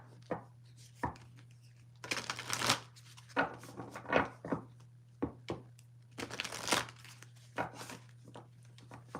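Earth and Bones Oracle deck shuffled by hand: bursts of riffling, bridging card flutter and soft slaps in irregular clusters over a steady low hum, close and moderately loud.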